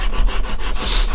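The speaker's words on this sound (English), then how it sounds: "Get my sander and make sure we've got some bare wood here." A sanding block scrubs back and forth across bare wood in quick, rhythmic rasping strokes, close and dry, several passes in just over a second.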